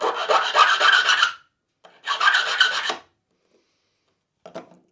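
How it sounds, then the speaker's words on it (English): A calico hand file rasps flat the underside of a metal part on a Frankenstrat-style guitar build, two long close strokes followed by a brief short one, separated by quiet pauses. "And we've just got to just file the underside of that one flat."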